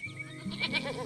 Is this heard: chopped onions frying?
no